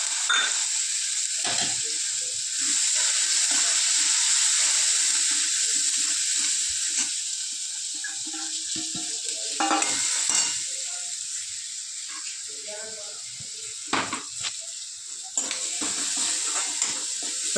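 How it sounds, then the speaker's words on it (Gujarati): Chopped onion and green chillies hit hot oil already seasoned with mustard seeds, asafoetida, cumin and turmeric, giving a loud, continuous close-up sizzle with occasional stirring scrapes and clatters. "પછી આપણે એની અંદર ડુંગળીને લીલા મરચાંનો વઘાર કરીએ"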